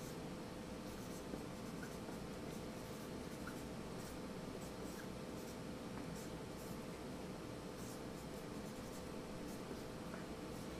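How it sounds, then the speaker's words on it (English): Faint, soft scratching of a pen or pencil writing out music notation, small strokes scattered over a steady hiss of room noise. "So let me write down the key of G and C."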